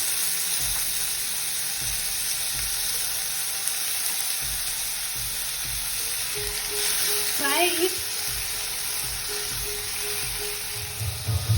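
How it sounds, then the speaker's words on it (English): Ginger garlic paste frying in oil with golden onions for a chicken fry, giving a steady close sizzle with occasional stirring and a brief squeak partway through. "Fry the ginger garlic paste until the raw smells goes out"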